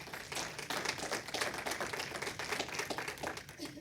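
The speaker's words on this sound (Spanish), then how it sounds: "Denle un aplauso al Señor" A church congregation applauds, a faint, distant patter of many hands clapping at an even pace for a few seconds without speech.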